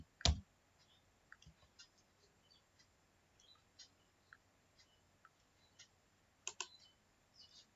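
Sparse, light key clicks from a computer keyboard while entering subject names into spreadsheet cells, scattered taps with one sharper burst at the start and a quick cluster near the end, quiet and close in a still room.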